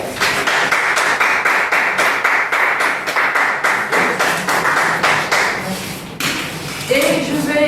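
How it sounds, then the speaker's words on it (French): Audience clapping to welcome a speaker at an event, loud and close with a rhythmic, almost unison beat, fading near the end into a brief murmur and a few scattered sounds. "sous les acclamations"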